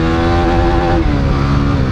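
Stock Yamaha Sniper 155 and Winner X 150 motorcycles racing at factory settings; a loud, close engine howl holds a high steady pitch, then shifts slightly as another engine note joins underneath.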